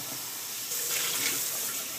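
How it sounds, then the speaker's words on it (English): Running tap water pours over soaked almonds in a kitchen sink for a rinse, a steady close hiss of water that grows fuller partway through, with no voices. "I'm going to rinse those really quickly and let those drain for just a moment while I rinse the pitcher as well"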